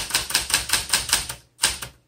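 Typing on a 1974 Smith Corona Classic 12 manual typewriter: a quick run of about seven sharp key strikes in steady rhythm, a brief pause, then two more strikes, close and clear with no voices.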